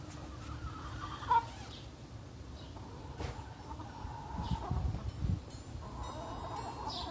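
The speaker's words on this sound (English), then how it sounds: "This is a Wyandotte. We have two Wyandotte chicks." Two Wyandotte chicks in a chicken tractor make faint, soft clucks and peeps against low outdoor background noise, with a couple of brief louder calls.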